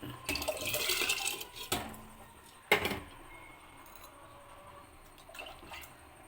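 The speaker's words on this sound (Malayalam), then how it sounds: "അരി കഴുകിയിട്ടുണ്ടെങ്കിൽ നമുക്ക് ഇതിലേക്ക് അരിയിടാം." Washed rice tipped into hot water in a cooking pot, giving a few sharp clattering splashes close by, with quieter rustling and settling between them and no talking.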